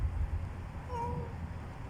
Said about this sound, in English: there is a cat here